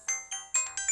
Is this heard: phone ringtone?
yes